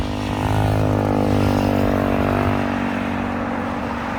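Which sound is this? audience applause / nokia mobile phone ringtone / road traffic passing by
road traffic passing by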